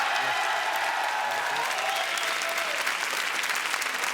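Studio audience applauding steadily to welcome actor Martin Lamotte onto a French TV variety show set, a dense, continuous clapping that holds at an even level throughout.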